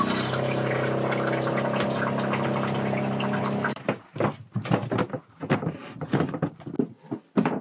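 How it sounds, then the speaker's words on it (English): A boat's forward bilge pump runs with a steady humming, sloshing drone for nearly four seconds, then cuts off, leaving irregular knocks, splashes and handling noises up close. "And now, bilge pump forward."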